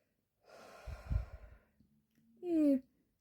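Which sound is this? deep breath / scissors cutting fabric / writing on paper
deep breath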